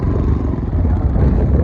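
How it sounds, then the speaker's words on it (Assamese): Motorcycle riding along the Brahmaputra riverbank, a steady loud low engine rumble with road clatter and wind, continuous throughout without talk. "ব্ৰহ্মপুত্ৰ পাৰে পাৰে বাইক চলাই আছোঁ"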